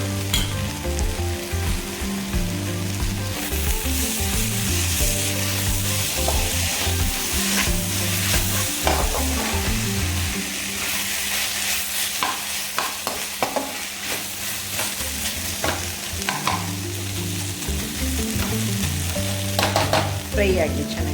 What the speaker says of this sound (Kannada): ಫ್ರೈ ಆಗಿ ಚೆನ್ನಾಗಿ ಫ್ರೈ ಆಗ್ತಾ ಇದೆ